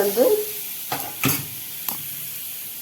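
Bread toasting in a hot pan just after radish was caramelized in it, with a soft sizzle and a few short scraping stirs close by.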